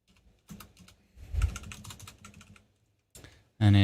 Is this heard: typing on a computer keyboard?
yes